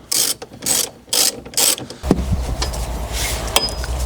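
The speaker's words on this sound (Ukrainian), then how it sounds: "Тут нам знадобиться 45-й торкс. І починаємо відкручувати." A hand ratchet loosens a Torx T45 seatbelt bolt on an Opel Astra H. Four quick bursts of close, loud clicking come first, then a low steady rumble with faint rubbing and light taps.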